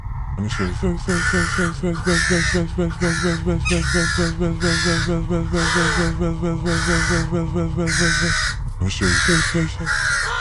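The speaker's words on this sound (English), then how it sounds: "when she looked out the window, 3 black crows sat on the fence staring at her" Several black crows on a fence caw loudly in repeated harsh bursts, one call after another for about ten seconds, over a constant low background rumble.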